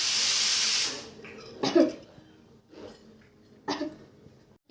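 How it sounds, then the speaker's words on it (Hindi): A young girl coughs in short bursts after a hissing stretch, with a couple of harsh close coughs separated by quiet breaths. "यहाँ पर इसको इतनी खांसी हुई थी, इसको सांस नहीं आ रही थी"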